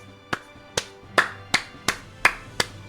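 Slow, deliberate hand claps from a single person, seven sharp close claps spaced about half a second apart in a quiet room, no talking.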